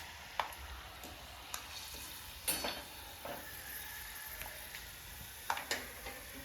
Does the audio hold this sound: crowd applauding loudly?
no